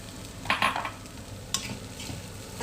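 Flattened rice (poha) frying with potatoes and peanuts in a pan on high heat makes a soft, continuous sizzle, broken by a couple of short scraping stirs of the spatula, with no one talking.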